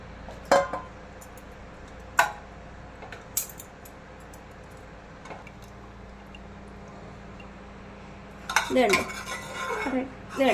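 Cooked mutton being moved from a pressure cooker into another vessel, with a few sharp metallic clinks of a spoon against pots, spaced out at first, then a busier burst of scraping and clattering near the end, close and with no talking.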